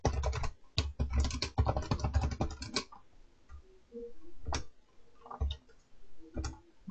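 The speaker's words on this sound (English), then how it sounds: "in here I'm going to type in please enter" Computer keyboard typing in a quiet room, a dense burst of rapid keystrokes for about three seconds, then sparse isolated key taps and clicks, close and clear.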